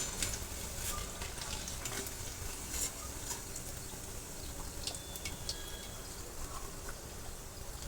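Coriander vadi fry in hot oil with a dense, even crackling sizzle, steady and close throughout, with faint scattered pops and no voices.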